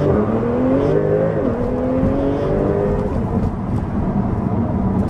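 A 2021 Porsche 911 Turbo S makes a launch start, the engine note climbing loudly through a rising pitch sweep, shifting once, then settling into a sustained high roar that fades slightly toward the end.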